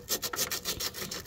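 Sandpaper rubbed by hand against a refrigerator part to clean it, quick rhythmic back-and-forth rasping strokes, close and clear, with no talk.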